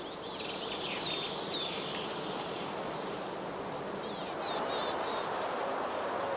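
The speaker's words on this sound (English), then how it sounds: "the bees are now busily collecting pollen and water to help build" Honey bees fly around heather skeps in a spring apiary outdoors, a faint, continuous buzzing hum over soft ambient noise, with a few bird chirps breaking through.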